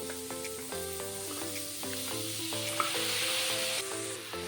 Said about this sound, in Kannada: ಇವಾಗ ಬೇಯಿಸ್ಕೊಂಡಿರೋ ಕಡಲೆಕಾಳನ್ನು ಸ್ವಲ್ಪ ಹೊತ್ತು ಹಾಗೆ ಒಗ್ಗರಣೆಯಲ್ಲಿ ಫ್ರೈ ಮಾಡ್ಕೊಳ್ಳೋಣ